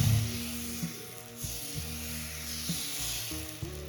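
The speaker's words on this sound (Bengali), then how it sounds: "দিয়ে দিচ্ছি তেল, ব্যাটারটা দিয়ে দেবো 1 ডাবু মতন।" Rice-flour batter for patishapta pitha is poured onto an oiled iron tawa and sizzles with a steady hiss, while soft background music plays alongside.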